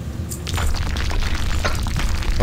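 A loud, rumbling explosion in World of Warcraft during a Gnomeregan dungeon run, a sustained booming blast with crackling bursts and no talk over it.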